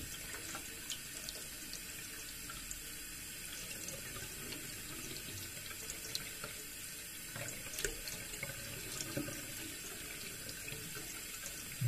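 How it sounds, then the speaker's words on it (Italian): Water pours steadily into a vase, a soft continuous rushing splash that stays faint and even throughout, with no voices. "se io faccio sgorgare fiumi di acqua dentro il vaso"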